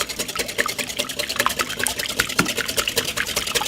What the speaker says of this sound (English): Give it a 2-minute whisk.